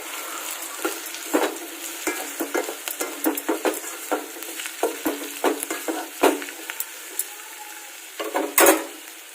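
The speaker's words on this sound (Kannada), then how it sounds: "ಇದನ್ನು ಕೂಡ ಹಾಕಿ ಒಂದು ಸಲ ಚೆನ್ನಾಗಿ ಮಿಕ್ಸ್ ಮಾಡ್ಕೊಳ್ಳೋಣ" A pan of cabbage masala rice with pepper powder is stirred on a gas stove. A spatula scrapes in quick, irregular strokes over a steady soft sizzle, close and moderately loud, with no voices.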